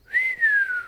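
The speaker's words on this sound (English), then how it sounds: "Argyve whistles." A character whistles in the Caves of Qud video game, a single clear, close whistle sliding slightly downward in pitch over under a second, with a brief dip in the middle and no other sound.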